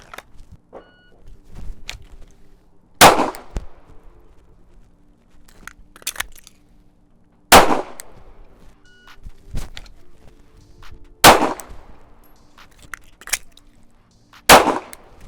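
Pistol handling and shooting: scattered clicks and clatter of a magazine reload between four loud, separated gunshots, with metallic handling noises in the gaps.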